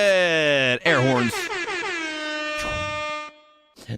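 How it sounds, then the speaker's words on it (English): Loud air horn sound effect from a stream alert, sounding as a series of blaring blasts that cut out abruptly, followed by a brief quiet tail. "Air horns."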